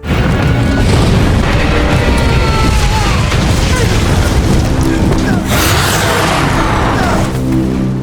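Heavy booming cannon blasts and crashing impacts fill a loud, dense action scene, with a sharp burst of debris near the end.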